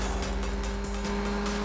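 A car engine roars continuously at close range, revving hard as the vehicle speeds off, with no voices over it.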